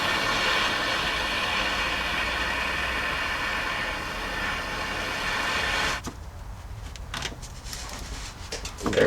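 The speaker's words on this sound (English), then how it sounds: "Then I'm going to take our torch" A torch roars in a steady, broad hiss while heating the frame rail of a Jeep Cherokee XJ, running loud and constant before cutting off abruptly, followed by faint clanks and shop noise.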